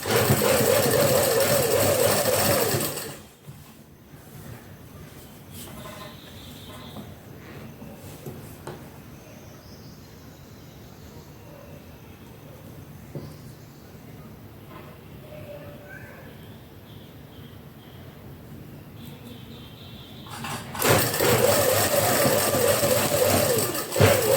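A sewing machine stitches cloth in loud, rapid, mechanical chattering bursts at the start and end, with a long quiet stretch between them.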